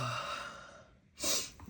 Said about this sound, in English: I'm breathing deep breaths.